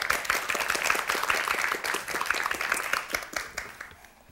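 A Korean TV studio audience claps, a crisp and moderately close round of distinct hand claps that thins out and fades toward the end, with no talking over it.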